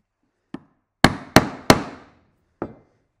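A wood carving gouge driven into a wooden workpiece gives five sharp knocks, a lone tap followed by a quick run of three loud strikes and a softer final one, each ringing briefly in a quiet room.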